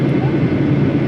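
Steady low broadband roar of an airliner cabin in flight, a dense continuous rumble with no breaks across the short stretch.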